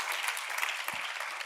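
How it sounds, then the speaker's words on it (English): Brief burst of audience applause at a talk, a fairly quiet, even patter of many hands clapping for just over a second. "So, yes, you can clap for that."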